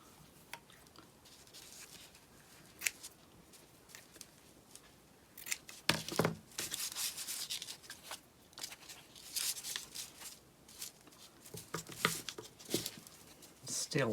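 Scissors snip repeatedly during a DIY gingerbread candy cane craft, a run of crisp close cuts in uneven bursts, some quick and clustered, against a quiet room.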